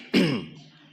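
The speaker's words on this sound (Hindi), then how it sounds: "आप भी अपना गला साफ करें" A single short throat clearing rises sharply and fades within a second, close and distinct, from an audience at a spiritual class before singing.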